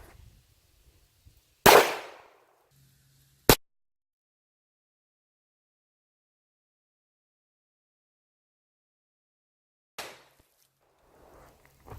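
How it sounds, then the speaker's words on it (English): Handgun shots are fired at a watermelon outdoors. A loud sharp report is followed by a second crisp crack, then long silence before a softer distant-sounding third impact and faint rustling. "Let's shoot it again"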